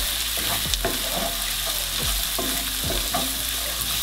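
Steady loud sizzling of carrots frying in a pan, with occasional scraping and stirring strokes, close up and continuous, no voices.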